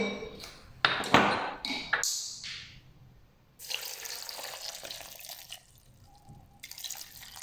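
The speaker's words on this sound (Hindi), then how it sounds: "अब हम इसके अंदर पानी शामिल करेंगे।" Water goes into a jar holding falsa with black salt, white salt and mint leaves for sherbet: first a few sharp drips and pings, then a steady splashing pour that tapers off, with no talking.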